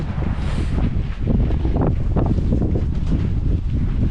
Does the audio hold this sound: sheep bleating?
no